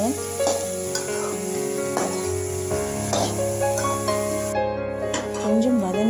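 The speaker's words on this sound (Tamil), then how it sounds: "ஆட் பண்ணி நல்லா வதக்குங்க." Ridge gourd sizzles and stirs in a hot pan, a steady frying hiss with scraping spoon strokes, under background music or faint voices.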